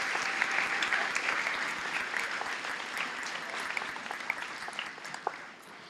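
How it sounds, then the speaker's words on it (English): An audience at a 2021 high school graduation ceremony claps steadily in a dense, sustained round of applause that slowly tapers off, with no talking over it. "let's give another round of applause to our scholarship recipients tonight."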